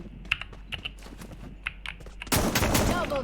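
A close keyboard clatters through the opening, then a burst of rapid gunfire from the Free Fire Max video game cuts in and carries loudly to the end.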